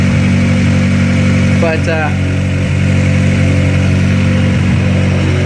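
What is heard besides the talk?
Honda Accord engine running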